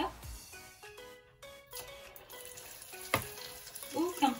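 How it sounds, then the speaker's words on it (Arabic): Eggplant sticks fry in hot oil, a soft steady sizzle with occasional bubbling and stirring clatter, fairly quiet and close, with someone speaking over the cooking. "كناخذهم وديريكت كنديرهم في الزيت سخونه عندي هنايا واجده"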